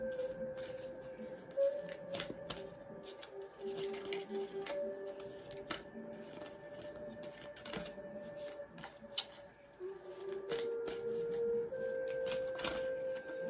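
Repeated crisp riffling and soft slaps of tarot cards being shuffled, close by, in irregular bursts over a faint steady tone, with no one speaking.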